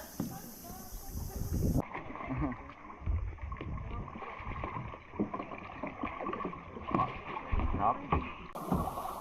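Kayak paddled slowly into a rock cave in the Blue Lagoon of the Philippines, with soft paddle strokes and water sloshing close by while people talk quietly.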